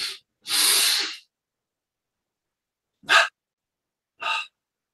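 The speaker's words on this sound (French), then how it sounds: "On relâche tout à l'expire." Forceful, breathy exhales during a breathing exercise: one long rushing outbreath, then two shorter sharp puffs, close and loud with silence between.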